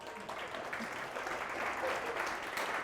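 Applause at a React conference talk, a steady, moderately quiet patter of many hands clapping across the room, sustained evenly without a clear start or end.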